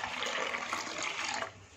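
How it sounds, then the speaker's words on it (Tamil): Water pours steadily over semolina in a continuous rushing stream for over a second, then tapers off abruptly near the end. "ரவை மூழ்கிற அளவுக்கு தண்ணி ஊற்றிக்கலாம்"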